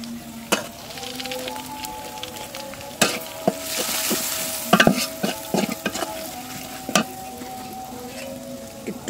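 Onions and chilies sizzle in a pan as ground spices are added, with a steady frying hiss broken by repeated sharp scrapes and clanks of a spatula stirring against the pan.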